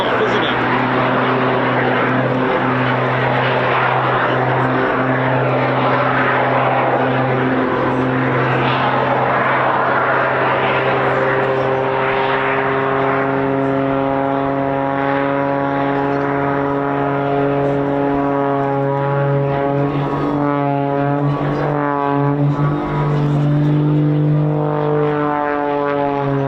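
Performance takeoff by a propeller aircraft at the RAF Cosford airshow, a loud continuous droning engine roar with a strong steady hum and rising, shifting pitch, heard alongside talking.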